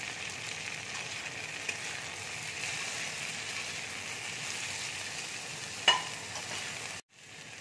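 Tomato and green chili fry in a pan with a steady, even sizzle, quiet and continuous, with one brief clink partway through and no talking.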